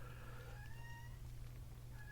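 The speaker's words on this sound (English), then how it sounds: "I apologise if you can hear me cat in the background there" A pet cat meows a few times in the background, faint drawn-out cries over a low steady hum, with no talking.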